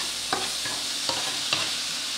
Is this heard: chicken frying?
yes